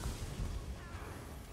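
Spell explosion in an Elder Scrolls Online dungeon (Shadowmire/Cavernes d'Ombre-Noire), a short low boom and rumble bursting at the start and fading into muffled combat noise, with no talking.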